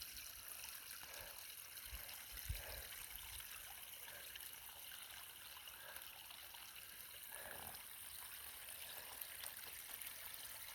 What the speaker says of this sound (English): Put my bottle under there and filled her up.